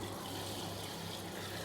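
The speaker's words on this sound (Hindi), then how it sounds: "मैं पानी डाल दूंगी।" Water poured into a large pot of browned chicken and spices for Bannu chicken pulao, a steady soft hiss of liquid running, quiet and continuous with no talk.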